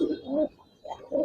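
Giribaz silver and coloured pigeons coo nearby in low, rounded phrases, two or three soft calls separated by a short pause.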